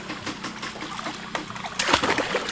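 Water gushes and splashes out of a homemade push-style hand pump fed from a hose, a brief wet spattering that grows louder and busier toward the end.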